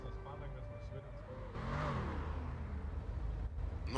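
An old car engine revs in a video game, a steady low drone that swells louder partway through and holds under the game noise, with a voice chatting over it.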